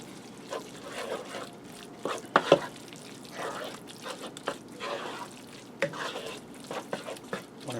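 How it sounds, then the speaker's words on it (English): A spoon stirs a Big Mac tater tot casserole mixture, giving soft, irregular wet scraping and squelching sounds up close, with faint quiet talk in the background. "Now I'm going to give this a stir to combine it."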